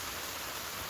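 Heavy rain falling outdoors, a dense, even hiss with no breaks over a brief moment.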